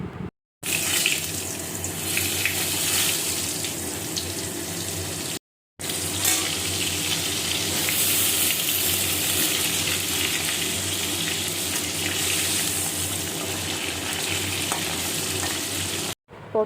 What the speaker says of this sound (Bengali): বাকি পটলগুলোও আমি ভালো করে ভেজে নেব।